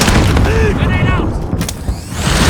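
A grenade blast in Call of Duty Modern Warfare goes off as a heavy boom amid a busy multiplayer firefight, with scattered gunfire and short game voice callouts layered over it.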